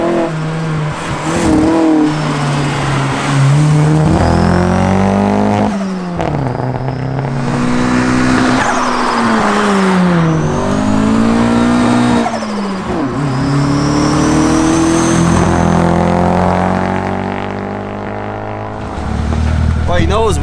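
A loud turbocharged car accelerates hard, its engine note rising and falling through revs while it misfires on fouled spark plugs, a steady roaring drone filling the whole stretch.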